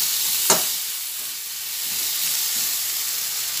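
A little water poured into a hot frying pan for drumstick flowers, producing a sharp crackling burst followed by a steady loud sizzle and hiss, with no voices.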